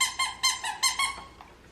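A child's pink shoes squeak as the soles are pressed, giving five or six sharp, close squeals in an uneven rhythm that fade into a faint last squeak, with no talking over them.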